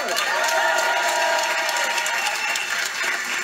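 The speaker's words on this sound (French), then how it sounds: "un applaudissement pour eux" A television studio audience claps loudly for a music group, with some cheering mixed into the steady, sustained applause.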